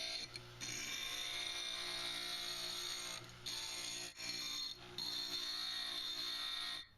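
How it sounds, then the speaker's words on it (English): A standard tabletop grinder shapes the edge of a slab glass piece with a steady, faint mechanical whine. The hum briefly dips a few times as the glass is pressed and lifted, and no one speaks. "The final shaping is performed on a standard tabletop grinder, which also leaves a nice, flat, 90-degree edge"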